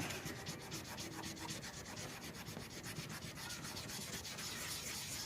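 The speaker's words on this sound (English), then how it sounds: "Just gotta sand this all the way down to bare metal." Car paint being sanded down to bare metal over a dent on a vehicle body, a steady continuous abrasive rasp that stays close and loud, with no talking.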